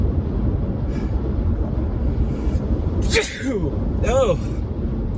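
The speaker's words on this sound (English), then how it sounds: "I have to sneeze" A person gives a single sudden sneeze partway through, a sharp burst set against a voiced, breathy sound.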